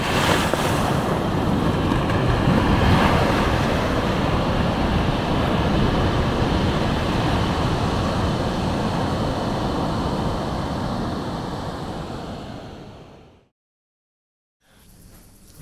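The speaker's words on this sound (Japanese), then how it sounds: "今日は僕たちが行くところはこんな感じの波です。" Ocean waves at a surf spot, a continuous loud wash of breaking surf and rushing water with wind noise, fading out near the end before a brief return.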